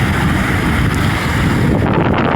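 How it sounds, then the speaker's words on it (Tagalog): Strong waves and gusting wind on the coast of Masbate after Typhoon Opong, where pumpboats were wrecked: loud, continuous surf roar mixed with heavy wind buffeting the microphone, with no pauses. "Tingnan mo yung mga alon-alon na yan"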